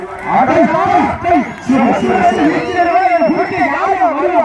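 Bull at a Jallikattu event, its presence carried by a loud, dense arena din of shouting crowd and a continuous announcer voice over a public address, with excited cries rising and falling throughout.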